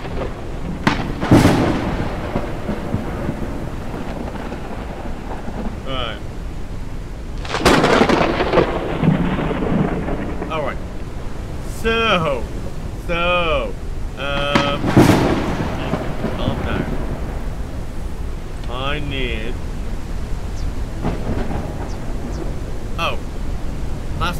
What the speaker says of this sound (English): Can't sleep away the storm.